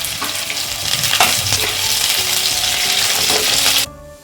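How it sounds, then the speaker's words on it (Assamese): Onions and green chillies frying in a pan for a chicken dish, giving a loud, steady sizzle with a few stirring scrapes, cutting off abruptly near the end. "এতিয়া পিঁয়াজখিনি অলপমান ভাজিম যাতে কালাৰটো আহে"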